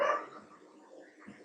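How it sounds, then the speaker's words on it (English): A stray dog gives a brief, faint bark or yip in the background, distant and quiet, followed by low room hush. "Sorry about the dog barking in the background."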